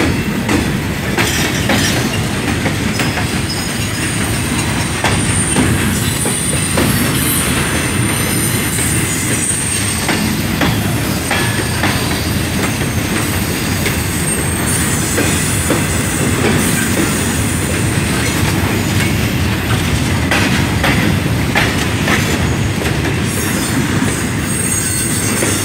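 A CSX freight train of empty cars rolls past at close range on a northbound run, with a continuous loud rumble, clattering wheels and occasional squealing that holds steady throughout.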